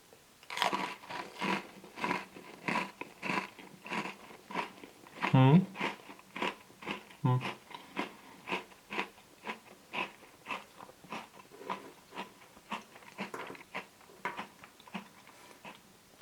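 Close, crisp crunching as an Oreo Double Creme sandwich cookie is bitten and chewed, with a steady run of sharp crunches throughout and one brief louder bite partway through.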